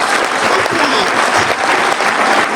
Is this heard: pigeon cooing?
no